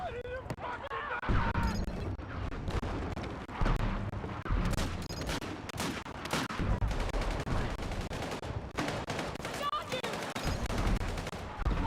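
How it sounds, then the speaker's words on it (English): In the Battlefield 6 video game, rapid gunfire and the booms of mortar strikes repeat through a chaotic firefight, loud and dense, as players talk and shout over the action. "There's so much mortars."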